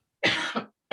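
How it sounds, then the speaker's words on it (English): A single short, harsh cough bursts out close to the microphone, followed by a brief second expulsion and quiet, with another cough just starting at the end. "Sorry, I've got a cough."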